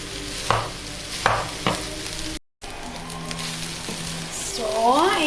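Turmeric-coloured nasi goreng is stirred in a frying pan: sharp spatula scrapes over a constant sizzle, a brief break, then a rising, busier frying hiss.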